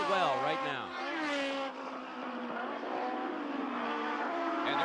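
A Swift Atlantic race car at the 1990 Trois-Rivieres street race screams past at high revs, its engine pitch climbing and sweeping steadily, loud and close, with a commentator talking over it.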